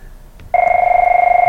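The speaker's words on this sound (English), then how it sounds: "Excuse the phone there." A telephone starts ringing partway through with a steady, loud electronic warble that holds without a break. It is close and heard alone, with no talk over it.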